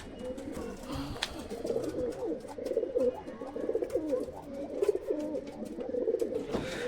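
Pigeons coo steadily at a home loft, a dense overlapping murmur of soft throaty calls from several birds at close range, continuous throughout with no talk.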